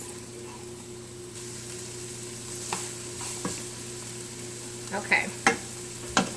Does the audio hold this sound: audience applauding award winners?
no